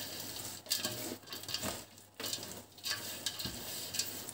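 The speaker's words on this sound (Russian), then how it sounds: "Ну вот это все мы должны сейчас перемешать." Shredded cabbage being mixed by hand for sauerkraut, a run of soft crunchy rustles and squelches in uneven bursts with short pauses between them, close and fairly quiet.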